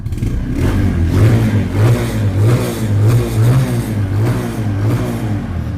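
A motorcycle engine revs repeatedly in rhythmic pulses, loud and close, with a throaty mid-pitched rumble and no talking.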